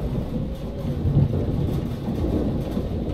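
A thunderstorm in the Life Is Strange game rumbles as a steady, dense low roar with rain-like hiss and a slightly louder swell partway through, continuous and fairly loud throughout with no voices.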